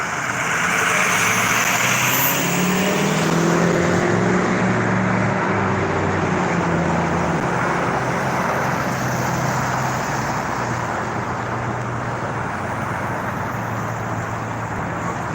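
Road traffic during police traffic control at an Aurora accident scene, with a steady rumble of engines from cars and trucks passing and idling nearby, continuous and fairly loud with no talk.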